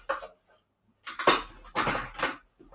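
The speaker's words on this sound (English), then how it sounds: "let me open my drawer. Sorry about the noise." A drawer is pulled open and objects are rummaged through, with metallic clinks and clatters in bursts near the microphone.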